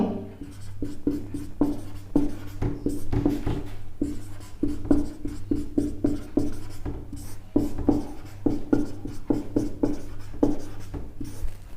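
A word is written by hand, a run of quick close scratching strokes with short pauses between letters, steady and fairly loud over a faint background hum.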